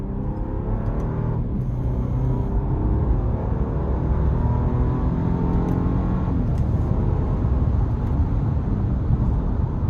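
A 2025 Nissan Armada SV with a twin-turbo V6 pulls hard under throttle, a loud, steady engine roar and road rumble building continuously from inside the cabin without a break.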